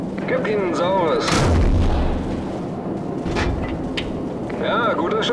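Heavy artillery fire in the video game Call of Duty 4: Modern Warfare, with a loud booming blast and rumbling aftermath, alongside further distant impacts as people speak German over the action.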